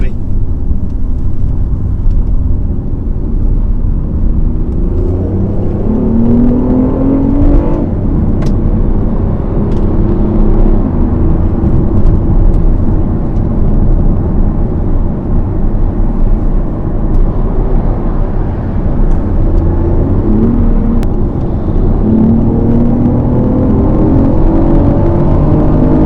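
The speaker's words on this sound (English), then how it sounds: "I don't know if you heard that, but the engine just roared at me." A BMW i8 hybrid's petrol engine drones and rises as the car accelerates on the road, with rising engine tones over heavy road and wind noise, recorded loud from inside the cabin.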